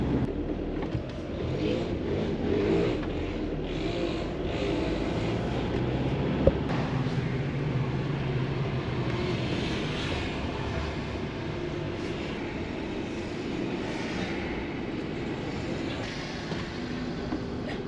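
Busy city traffic heard as a steady, dense rumble of engines and passing vehicles, continuous and moderately loud with no talking over it.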